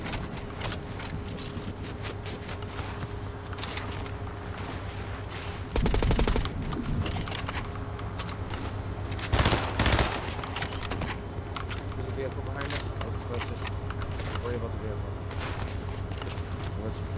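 Dense automatic gunfire crackles nearly nonstop through a battle royale duos match, with louder bursts standing out among steady rapid shots while players talk over the action.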